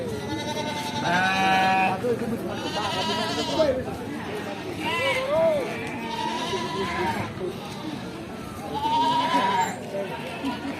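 Merino goats bleat at a goat market, several loud wavering cries coming in repeated bursts close by, with a crowd murmuring underneath.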